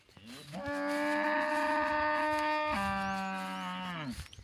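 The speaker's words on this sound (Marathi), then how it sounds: "तांबड्या गायचं वरडायला चालू" A red cow gives one long, loud, drawn-out moo that shifts pitch midway, heard close up and alone.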